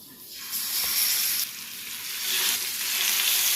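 Fish frying in hot oil with curry leaves, a continuous bright sizzle that swells and crackles throughout with no talking.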